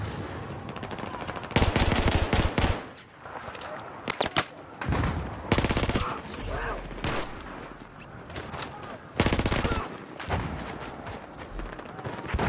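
FAMAS rifle fire in Battlefield 4 on Operation Locker hardcore, several rapid automatic bursts rattling out loud and close between shorter pops and quieter gaps, with distant battle noise underneath.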